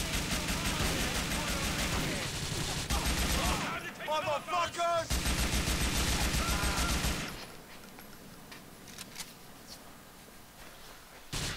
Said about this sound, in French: Un bon fusil d'assaut.